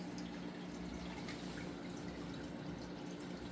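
Water drips and trickles steadily during a partial water change on a freshly set-up freshwater aquarium, a faint, continuous watery patter with no voices over it.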